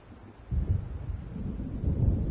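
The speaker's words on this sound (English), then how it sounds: "It seems there's a storm coming." Thunder from an approaching storm in the Alan Wake game: after a brief quiet start, a deep low rumble rolls in and swells gradually, sustained and heavy, with no voices.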